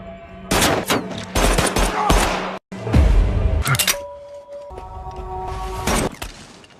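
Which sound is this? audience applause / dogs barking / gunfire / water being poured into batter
gunfire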